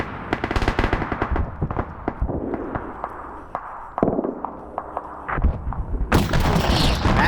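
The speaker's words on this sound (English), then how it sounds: "Artillery coming in," Arma 3 combat in a large PvP battle: dense bursts of rapid gunfire and heavy booming blasts crack back to back, loud and close, with a particularly big impact near the end.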